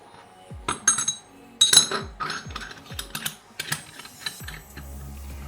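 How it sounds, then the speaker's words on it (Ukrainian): A stainless steel dairy pipe coupling with a threaded nut is put together, giving sharp metallic clicks, clinks and ratcheting taps in an irregular string, close and clear with no talk. "Збирається муфта досить просто."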